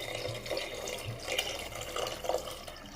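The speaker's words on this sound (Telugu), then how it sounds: "కొంచెం వాటర్ పోద్దామండి." Water pours into a fish curry in a pan, a steady soft splashing and gurgling that runs continuously and fairly quietly for the whole moment.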